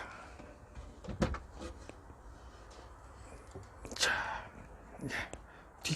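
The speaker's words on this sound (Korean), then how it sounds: "서랍 한번 열어보겠습니다." Drawer sliding open in a Kia Sorento converted with a built-in bed platform, a few soft wooden knocks and rubbing slides spread over several seconds, fairly close, with someone talking briefly.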